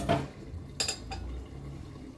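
A metal lid set down on a cooking pot of chicken dum pokto with potatoes, a short clank followed by a softer knock, close by, with a quiet kitchen background.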